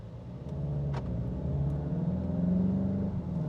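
A refreshed 2025 VW Golf GTI SE, Mark 8.5, on the move, giving a steady engine drone and road rumble from inside the cabin, with a slight rise in pitch as it pulls along.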